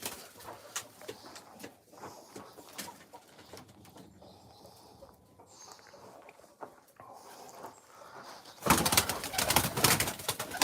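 Pigeons coo softly at a live pigeon auction, low throaty calls repeating over a busy background of shuffling and rustling, ending in a loud burst of flapping or clattering noise.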